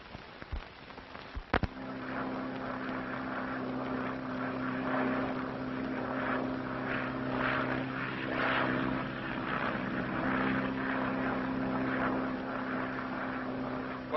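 A propeller airplane engine drones in a 1937 film soundtrack, a steady buzzing hum with a strong tonal note that swells slightly, following a few sharp knocks at the start.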